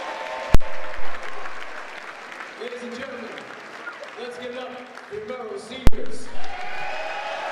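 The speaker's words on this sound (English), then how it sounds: "Big round of applause for senior captain Braden Marceau" Applause rings out in a gym during senior introductions at a high school wrestling meet, a crowd clapping under an announcer's amplified voice, with two sharp loud bangs cutting through.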